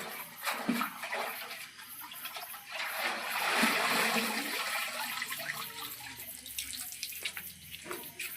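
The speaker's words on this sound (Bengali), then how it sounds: "কাদা টাদা লেগে রয়েছে, একটু এর জন্য ধুয়ে দেওয়া হচ্ছে।" Water runs and splashes steadily as mud is washed off freshly harvested ghetkol plants pulled from a field, with a rushing, surging stream that swells in the middle.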